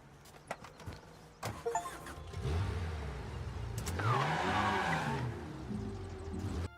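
A stolen car in the Mafia video game starts up after a few clicks and thumps, then its engine rises and revs steadily as it pulls away and keeps driving.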